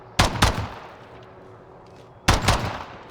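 Two loud shots fired from a gun in a video game, triggered by a Logitech G Hub macro: a quick close double burst, a long quiet gap, then another sharp double burst, with no talk.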